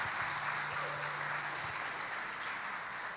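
Congregation at a church conference applauding for their pastors, a steady, even roar of many hands clapping at moderate volume with a low hum beneath it.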